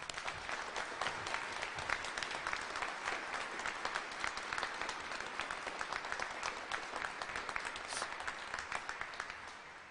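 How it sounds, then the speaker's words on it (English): A room full of people applauds Interim Rochester Police Chief Mark Simmons, a continuous wash of many hands clapping at moderate distance, steady throughout with individual claps poking through. "he should be given a round of applause."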